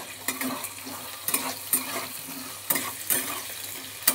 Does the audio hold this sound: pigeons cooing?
no